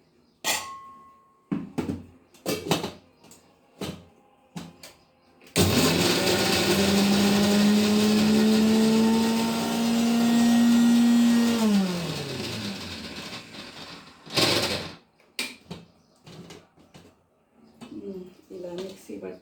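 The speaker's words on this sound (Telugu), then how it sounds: "ఇప్పుడు ఇది మిక్సీ పట్టుకోవాలి." A mixer grinder whirs loudly for several seconds, grinding finely chopped green chillies with salt, its motor pitch shifting as it runs, followed by a few clattering knocks and brief speech before and after.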